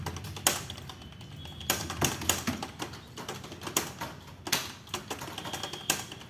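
Typing on a computer keyboard during a typing practice demonstration, a run of clicky keystrokes in an uneven rhythm with a few harder taps, close and moderately loud, with no voices.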